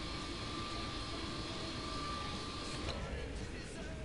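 Jet plane engine in the Saints Row the Third video game, a steady continuous roar with a faint high whine, loud and unbroken throughout with no talk over it.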